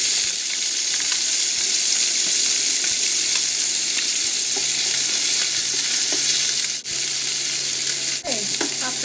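Thin sumac-seasoned fish fillets fry in a pan on their second side, with a steady, close crackling sizzle and a couple of sharper pops.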